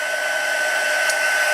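A handheld heat tool blows a constant, close whooshing hum while melting clear embossing powder on a handmade Valentine card.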